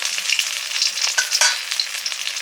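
Thinly batter-coated pumpkin flowers fry in hot oil, giving a bright, crackling sizzle with small popping bursts, close and steady throughout the short stretch.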